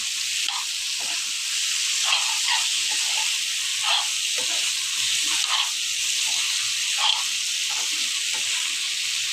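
Taro frying in a pan, a steady loud sizzle with occasional stirring scrapes and bubbling pops, constant throughout with no talk.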